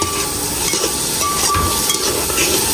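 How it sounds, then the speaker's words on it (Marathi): Chicken with red and yellow capsicum and oregano being stir-fried in a pan for Bhopali-style bhuna chicken, a steady loud sizzle with scraping stirs underneath, continuous and close. "आता हे छान परत परतून घ्यायचं आपल्याला."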